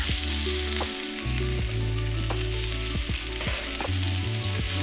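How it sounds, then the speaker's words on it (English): Cipollini onions caramelizing in a frying pan sizzle steadily and loudly up close, with a low hum underneath and repeated clicks and scrapes of stirring throughout, no voices. "we're gonna let this caramelize before we go on to our next step here"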